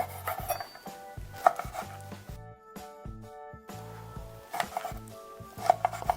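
A knife finely chopping dried persimmon on a cutting board, bursts of quick close taps separated by short pauses, with a few brief scraping touches.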